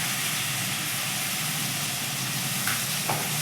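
Turmeric and onion frying in a pan for mutton masala, a steady dense sizzle and hiss running throughout with a couple of brief clinks near the end, no voices.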